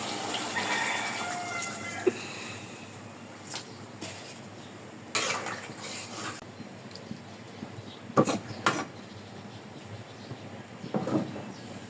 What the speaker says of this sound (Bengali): ঝোল দিয়ে দিব।